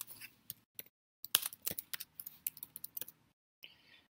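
Someone types a name on a computer keyboard: close, quiet key clicks in irregular bursts with brief pauses, ending in a short softer rustle.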